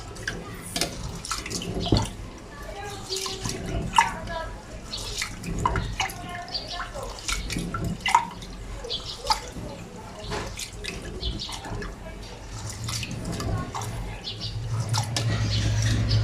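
Black rice is rinsed with water, a close splashing and dripping sound that swirls steadily and grows louder toward the end. Faint talk is heard now and then.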